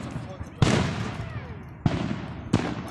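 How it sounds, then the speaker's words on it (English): Fireworks show bangs, three sharp loud blasts spaced unevenly with ringing decay after each, over outdoor crowd murmur and talking. "Boy, it's fireworks."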